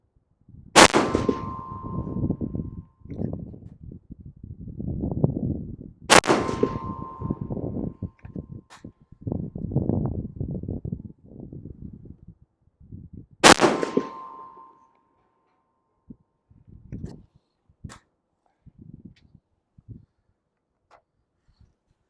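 Three sharp 6BR rifle shots fired at a target, each a loud crack with ringing decay, spaced several seconds apart, with handling clicks and low rustling between and after them.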